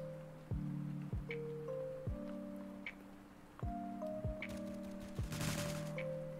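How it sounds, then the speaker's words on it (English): Distant gunshots crack faintly at irregular intervals during a video game, with a rapid volley near the end over a steady droning game soundtrack. "Wait, I think I heard some shots."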